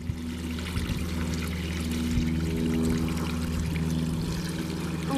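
Water pours in a steady, continuous stream into an outdoor African cichlid pond, a full rushing splash heard close up for the whole stretch with no talking.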